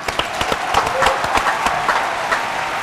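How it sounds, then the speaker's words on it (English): Scattered audience clapping at a nighttime Fort Lauderdale show, steady and moderately loud for about three seconds, with a voice talking over part of it. "the audience, please give her a round of applause"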